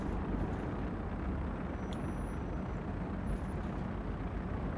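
Aircraft brakes on a runway in Flight Sim World, heard as a steady, loud rushing hiss with no breaks and a continuous low rumble underneath.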